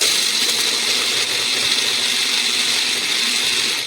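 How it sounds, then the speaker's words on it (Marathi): A mixer grinder whirs steadily while grinding a wet spice masala of curry leaves, turmeric and asafoetida, a loud continuous motor whine up close that cuts off at the end. "छान मिक्सरमध्ये बारीक असं वाटून घ्यायचं आहे"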